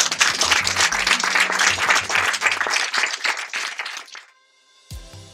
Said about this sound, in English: Let me applaud you for sure.